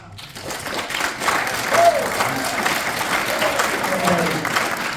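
Audience at a city council district candidate debate applauds steadily, a dense wash of clapping that swells slightly and holds at a constant level for the full stretch.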